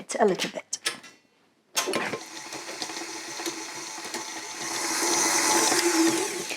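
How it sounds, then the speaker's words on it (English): A stand mixer beats unsalted butter, starting after a few spoken words and a short silence, then whirring steadily under the clip, growing slightly louder and brighter toward the end. "I'm using a stand mixer for today. I'm going to pop my butter. This is unsalted butter, and I'm going to give that a quick mix"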